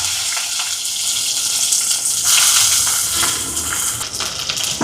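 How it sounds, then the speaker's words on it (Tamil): Fennel seeds, curry leaves, shallots and green chillies frying in oil in a clay pot over a wood stove, a steady loud sizzle and crackle with a few brief surges, no voices. "பச்சை மிளகாய் இதெல்லாம் வதங்கட்டுக்கும்."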